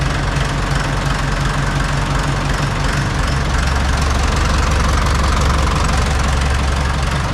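An old tractor engine runs steadily with a loud, low, knocking rumble and constant vibration, close by and unbroken throughout.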